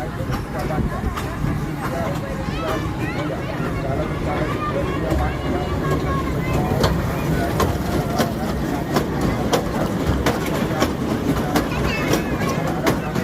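A small fairground toy train rumbles steadily with rhythmic clicking amid a busy, chattering crowd and background fairground noise at a large fair in Sanosara.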